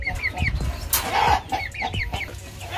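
Young Indo Gigante cockerels and chickens, around two to three months old, cluck in quick repeated bursts close by, with a louder squawk partway through and no talking.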